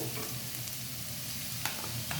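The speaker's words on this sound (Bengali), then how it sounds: "একটু নেড়ে চেড়ে রসুনটা বেশ একটু ভাজা ভাজা হয়ে যাবে" Minced garlic fries in hot oil with a steady sizzle, stirred by a utensil that scrapes the pan a couple of times, close and moderately loud throughout.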